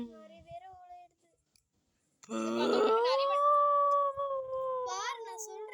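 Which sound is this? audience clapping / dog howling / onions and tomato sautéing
dog howling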